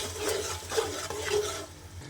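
A spoon scrapes through masala and yogurt roasting in a pan over a low flame, with about three rhythmic stirring strokes over a soft sizzle.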